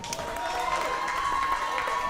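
A wrestling match crowd cheering and applauding, a steady, loud roar of many voices and clapping sustained across the moment without pause.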